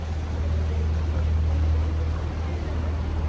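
A boat on a canal in Bruges chugs past with a loud, steady low engine drone and a broad wash of water noise, close by and unbroken.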